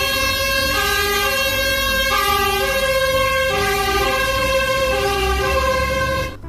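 Toy fire truck siren wailing loudly and continuously, its stacked rising and falling tones cycling steadily throughout, close and alone with no voices.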